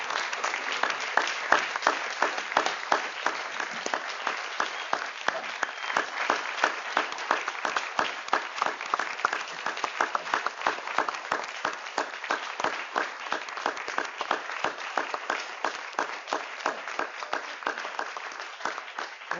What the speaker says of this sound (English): everyone in the room stood up and applauded to you